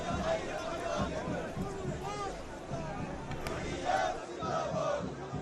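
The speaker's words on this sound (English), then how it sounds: "Huge crowds." Large crowd at Priyanka Gandhi's Wayanad by-election nomination, a dense roar of cheering and shouting voices with chanting, sustained and fairly close throughout.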